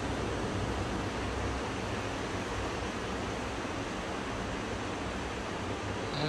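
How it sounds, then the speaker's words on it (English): Ocean surf heard at night from inside a room, a steady, even wash of broadband noise that holds constant for several seconds with no distinct breaking crashes and no voices. "The view from our room here at night, still hear the ocean out there."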